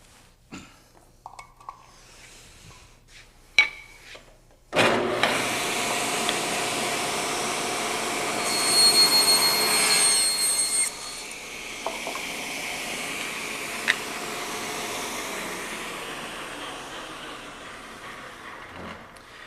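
A table saw makes the second, separating cut of a rabbet as a non-through cut, a loud, steady broadband whir that starts abruptly after a few quiet seconds and holds for the rest of the clip with no talking.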